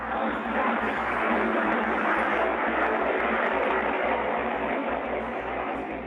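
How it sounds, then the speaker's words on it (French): An airplane taking off produces a steady, loud jet roar that fills the whole stretch and holds constant before easing slightly at the end, with faint speech beneath it. "il y a un avion qui décolle"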